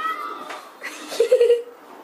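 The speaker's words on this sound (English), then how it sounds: "Our cat." A house cat meows a few short times at close range, with people's voices around it.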